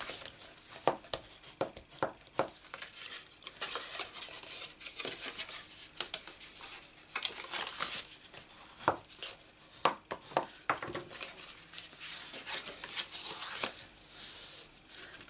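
Scored paper card for a stamped craft project is burnished by hand, giving close, dry rubbing and scraping strokes with sharp taps in an irregular rhythm and no talk.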